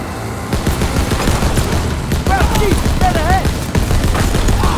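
Mounted machine gun fire from Call of Duty: WWII, dense rapid bursts and booms filling a loud battle mix, with shouted voices and whistling effects over the shooting.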